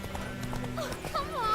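Roach, the horse in The Witcher 3, clip-clops along at a steady walking pace, the hoofbeats close and clear over a low, humming game soundscape.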